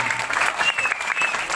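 An audience at a Balinese comedy show claps in a dense burst of applause that holds steady throughout, with a voice audible underneath.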